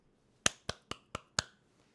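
A few slow, sarcastic claps from a single person, five sharp separate smacks spaced evenly, close and fairly loud with no talk around them.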